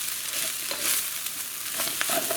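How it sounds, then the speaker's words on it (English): Fried rice seasoned with salt and sesame oil is stirred in a frying pan, giving a continuous bright sizzle with soft scraping strokes of a spatula, close and steady with no talk. "Give it another stir."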